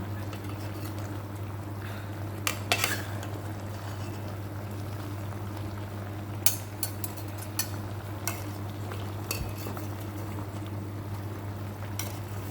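A pot of Thai chicken soup being stirred to keep it from sticking to the bottom, giving soft scraping and liquid sloshing with a few sharp clinks against a steady low kitchen hum, no talk.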